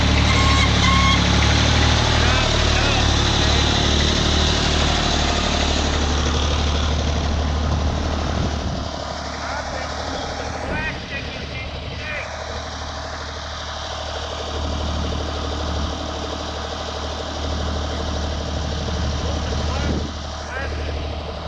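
A tractor engine idles loudly nearby on a farm, a low steady rumble that drops somewhat partway through, with occasional clanks and a voice speaking over it.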